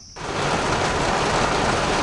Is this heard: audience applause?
no